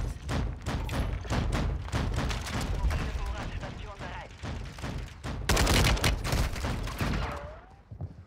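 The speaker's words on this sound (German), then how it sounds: "Was hat denn der hier geschossen?" Rapid bursts of gunfire from Call of Duty Warzone on Rebirth Island's Vondel map crackle across the whole stretch, dense and loud with a heavier volley near the end, while a voice talks over the shooting.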